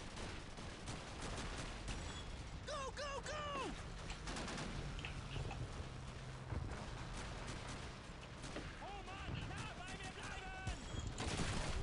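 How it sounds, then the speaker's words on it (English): Rapid machine gun bursts in a video game, dense crackling volleys of gunfire running through the whole stretch with a few louder clusters, heard under a player's excited talking. "Machine gun."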